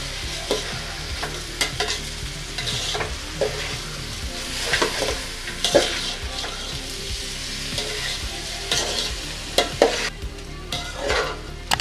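Soaked rice, about a kilo, is stirred with spices in a hot pot for chicken mandi, with repeated scraping strokes and scattered clinks over a gentle sizzle, close and alone without talk.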